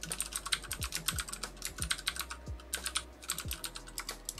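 Rapid clicking of fingers typing on a computer keyboard indoors in an apartment: a steady, close run of key taps with no talking.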